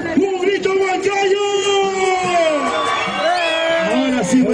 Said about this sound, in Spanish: quiero que griten bien fuerte